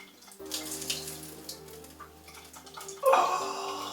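A film scene with a man urinating in a shower, fully clothed: a steady splashing stream of liquid over a low hum grows suddenly louder and harsher near the end.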